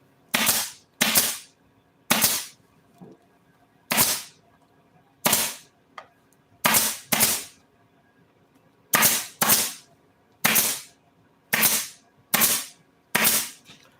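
A stapler driving staples into a Polaris seat cover, giving about fifteen loud, sharp snaps in an uneven rhythm with short pauses between groups, close by and with no talking.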